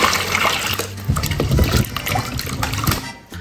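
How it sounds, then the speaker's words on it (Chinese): Water is poured into a bowl of peeled potatoes to rinse them, a loud, close splashing gush that swells and sloshes for a few seconds before tapering off as the pour ends. "倒水再洗一下。"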